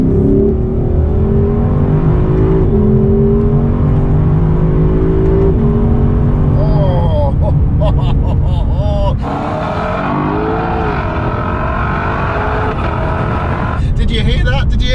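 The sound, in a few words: Lexus LC500 engine revving in second gear, Sport Plus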